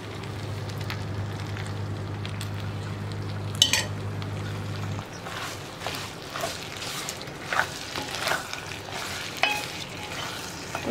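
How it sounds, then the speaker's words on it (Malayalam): Cooked chickpeas and plantain are stirred in an uruli pan for a Kerala sadya koottu curry, a steady low hum giving way to scraping, clinking stirs and soft sizzling, close and without talk. "ഇനിയിപ്പോൾ നമുക്ക് ഉരുളിയിലേക്ക് നമ്മൾ ഈ കുക്ക് ചെയ്ത കടലയും കായും എല്ലാം ചേർത്ത്"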